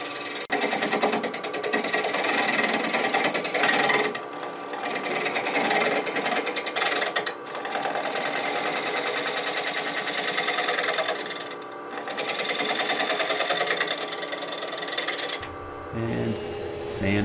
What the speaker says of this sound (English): Now I'm going to come back with a spindle gouge and actually turn them into beads.